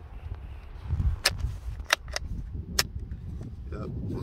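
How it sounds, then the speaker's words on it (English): Ruger 10/22 rifle fitted with a binary trigger test-fired at close range, giving a few sharp, separate cracks spaced about a second apart over a low background rumble. "Test fire, clear."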